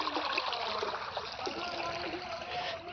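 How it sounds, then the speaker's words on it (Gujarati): Water from a well about a kilometre away gushes steadily out of a pipeline into a village field, a continuous, fairly loud splashing flow with no break. "પાણી લગભગ એક કિલોમીટર દૂરથી અમારો જે કૂવો છે ત્યાંથી પાણી આવે છે અહીંયા સુધી પાઇપ લાઇન છે"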